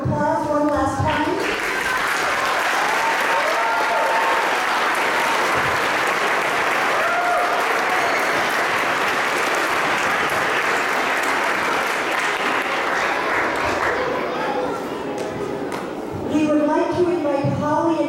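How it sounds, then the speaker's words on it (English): Sustained loud applause from a parent audience at a school community event, clapping densely and steadily for most of the stretch with crowd noise mixed in, and brief talk at the start and end. "give them a big round of applause one last time"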